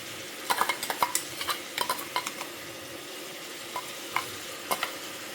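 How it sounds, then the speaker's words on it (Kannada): Ground masala being stir-fried in a pan for jackfruit pulao: a soft sizzle under repeated light scraping and clinking of a spoon against the pan, irregular strokes close by. "ಈಗ 1-2 ನಿಮಿಷ ಇದನ್ನು ಚೆನ್ನಾಗಿ ಹುರ್ಕೊಳ್ಬೇಕು"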